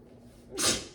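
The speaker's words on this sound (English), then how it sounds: "Excuse me, sorry, sneeze." A single short sneeze bursts out near the mic after a moment of quiet, sharp and breathy, during a home workout.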